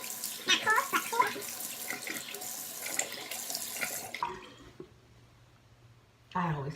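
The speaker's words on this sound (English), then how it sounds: "I try to keep the water at this point when I'm rinsing, not cold, but cool." Tap water runs steadily into a bathroom sink while someone rinses their face, a close, continuous splashing rush with a voice talking over it, then cutting off abruptly before a brief burst returns at the end.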